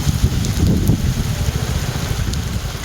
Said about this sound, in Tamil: திருவள்ளூர் மாவட்டத்திலும் பரவலாக மழை பெய்தது.